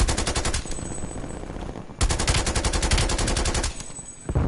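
Rapid gunfire in a PS4 shooter game: dense, loud bursts of repeated shots in two long volleys with a short break between them, and no voices heard.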